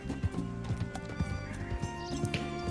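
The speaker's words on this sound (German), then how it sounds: "Das Pferd ist nicht kaputt." A horse's hooves clop in a steady trotting rhythm in the Red Dead Redemption 2 video game, fairly close and over layered game music. A possible whinny is hard to single out.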